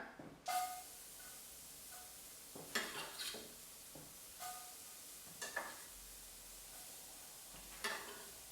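Finely diced onion frying in a pan, a low steady sizzle broken by several sharp bursts of stirring and scraping, quiet and close.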